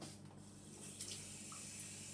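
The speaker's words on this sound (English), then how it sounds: "Let's put the tap on." A tap runs into a sink at a handwashing basin, making a steady, soft, continuous stream of water with no voices.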